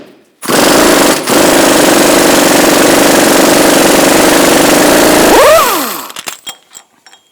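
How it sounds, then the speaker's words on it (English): Impact wrench with a 32mm axle socket loosening the front axle nut on a 1998-2011 Ford Ranger, a loud close rattling burst lasting about five seconds with one brief break, then spinning down into a few light clinks. "we're going to use a 32mm socket, axle socket for our axle nut"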